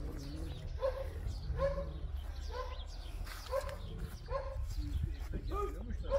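Dogs barking repeatedly at a moderate distance near a new construction site, a steady series of sharp barks over constant low background noise and rumble.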